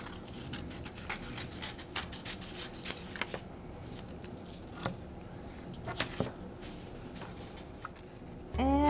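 Scissors snip through paper leaf shapes for a sunflower craft, producing steady close rustling and repeated small crisp cuts, with a sharper sound right at the end.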